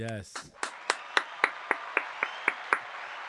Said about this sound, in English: I would like to say round of applause